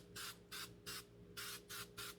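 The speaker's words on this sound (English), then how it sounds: "I'm gonna use Super 77 spray glue. We'll spray that backside." Super 77 spray adhesive hisses onto the back of a velvet sheet in six short, even bursts, close and crisp against a quiet background.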